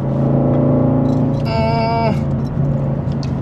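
A modified third-generation Subaru WRX idles with a low, lumpy engine burble, then a brief rising rev blips for about half a second before settling back to idle.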